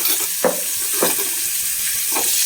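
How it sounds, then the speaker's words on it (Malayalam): Mango side dish stirred in a hot pan, with three short scraping strokes over a steady frying sizzle, close and fairly loud. "നന്നായി ഇളക്കി കൊടുക്കാം"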